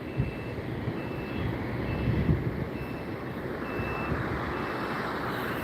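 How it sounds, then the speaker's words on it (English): A Penske truck backs up at Los Angeles International Airport, its reversing alarm beeping steadily and repeatedly at mid distance over a constant low rumble of engines and airport noise, with no voices. "this Penske truck is not going to move, and this guy wants to back up"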